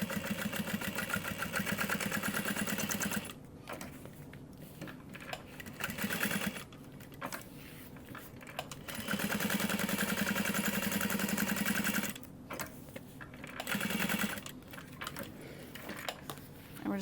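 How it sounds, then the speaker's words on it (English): A sewing machine topstitches a nylon tote bag in steady whirring runs that stop and restart, loud and close, with short pauses between bursts of stitching. "I'm gonna top stitch it and then I'll baste foam."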